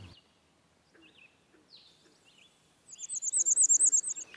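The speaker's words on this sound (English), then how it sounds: "bay-breasted warbler" Bay-breasted warbler singing in a northern spruce forest: faint scattered high chirps, then a rapid run of thin, very high repeated notes near the end, clear against a quiet background.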